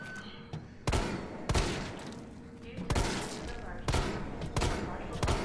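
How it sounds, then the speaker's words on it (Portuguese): Gunfire rings out in the Resident Evil 3 Remake video game, several sharp shots spaced irregularly over a noisy, busy game background. "Marcelo, você errando todos os tiros, mano."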